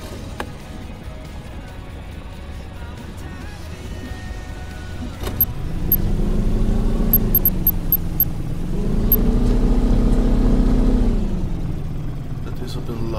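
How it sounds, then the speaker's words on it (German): A boat's electric motor starts up in the fishing video game Fishing Planet, rising into a steady, loud mechanical hum that swells twice, with faint clicks around it. "Mit E-Motor starten."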